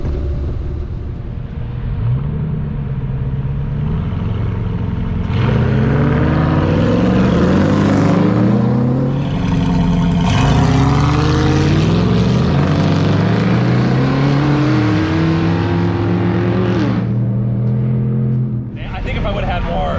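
Powerful engines of a Ford Raptor and a trophy truck roar and rumble continuously on a dusty off-road course, rising and falling in pitch as they accelerate and pass, with people talking over the noise.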